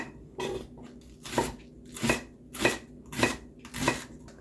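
Six evenly spaced thuds of a knife chopping onion on a cutting board, each a crisp close-up chop with a short crunch, in a slow steady rhythm.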